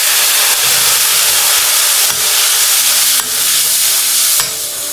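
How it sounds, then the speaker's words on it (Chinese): Long beans with garlic being stir-fried in oil in a wok over high heat, giving a loud, steady, close sizzle and hiss with the scrape of tossing underneath. "大火翻炒，讓豆角散發出香味。"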